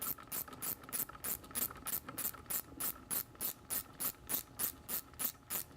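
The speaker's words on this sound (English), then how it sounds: "This is a 10mm ratcheting box wrench." A 10mm ratcheting box wrench snugs bolts on an MT-82 shifter install in a 2011-2014 Mustang, giving a rapid, even series of close, crisp ratchet clicks in regular bursts, about three per second, with no talking.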